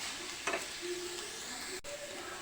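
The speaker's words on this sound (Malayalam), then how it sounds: "നല്ലപോലെ വഴരുന്നത് വരെ നമുക്കൊന്ന് ഇളക്കി കൊടുക്കാം." Onion masala with a little salt, cooked down for an egg roast, sizzles steadily in a pan while a spoon stirs and scrapes it, with one brief scrape near the start; soft and close.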